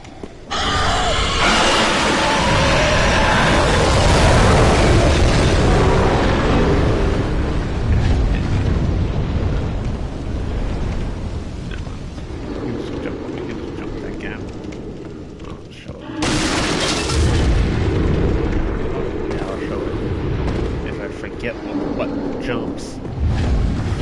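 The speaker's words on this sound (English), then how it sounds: "Grab some of those items between his fire breaths." Dark Souls 3 boss fire breath blasts, long roaring whooshes of flame that swell and fade across two waves, loud and sustained, with someone talking over them.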